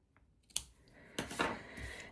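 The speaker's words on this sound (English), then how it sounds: "Scissors. And we're just going to get this snipped a little bit." Scissors make a few quick, close snips through paper, with faint handling rustles in between and no talking.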